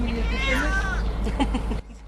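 A cat meows with a drawn-out, wavering cry, up close, followed by softer sounds against steady background traffic noise.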